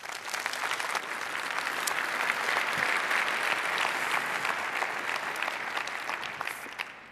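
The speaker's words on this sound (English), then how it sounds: "Please welcome her with a lot of applause." Conference audience applauding to welcome a speaker before a talk on mobile data interception, a dense, steady ovation that swells, holds for several seconds and fades at the end.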